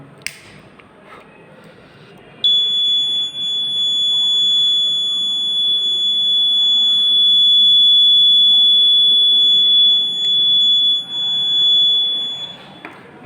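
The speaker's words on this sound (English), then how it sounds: "whenever any light falls on the photodiode, as you can see, the buzzer starts to make sound" A buzzer on a home protection system, set off by light falling on a photodiode, sounds as a steady loud tone that holds for about ten seconds with a couple of brief dips before cutting off.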